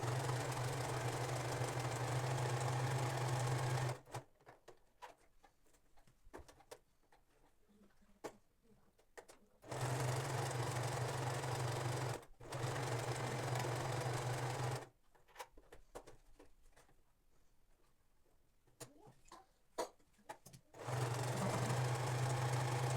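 A sewing machine stitches a tubeteika skullcap in several long steady runs with a low hum, separated by quiet pauses with faint handling clicks.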